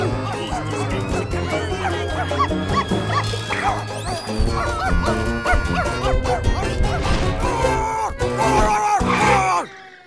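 A cartoon character from VeggieTales imitates a dog, voicing loud, excited barks and yips amid a busy, noisy chase scene.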